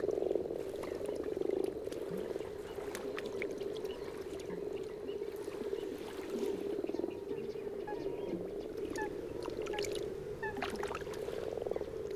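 Frogs croak continuously in an undamaged wetland habitat within a natural conservation area, a dense steady chorus of overlapping calls with scattered sharper croaks and clicks throughout.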